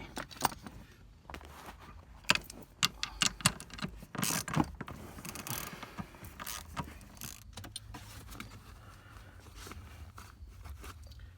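Ratchet and socket on an extension working the seat bolts of a 2012 Chevrolet Suburban, with scattered sharp metallic clicks and clanks, some handling rustle and quiet gaps between them.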